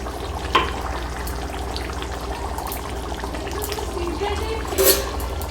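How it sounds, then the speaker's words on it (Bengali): Duck meat curry with garam masala being stirred and fried in a pan, giving a steady low sizzle and bubbling with occasional scrapes and clinks of the spoon. "গরম মশলা দিয়ে আমি আরও কিছুক্ষণ নাড়াচাড়া করে নেব"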